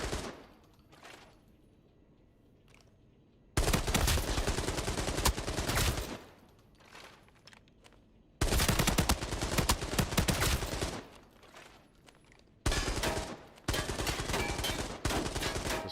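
A video game gun fires in automatic bursts, three loud sustained volleys of rapid shots broken by quieter gaps with faint background sounds.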